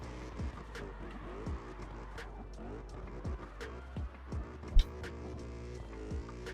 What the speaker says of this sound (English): Drifting through.